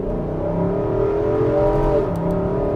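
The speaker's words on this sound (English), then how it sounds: "Off the line, on the gas." A 2024 Nissan Armada SL full-size SUV accelerates hard from a standstill. Heard from inside the cabin, the engine drone rises steadily in pitch, loud and continuous with no talking.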